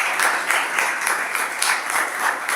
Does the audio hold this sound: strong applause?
yes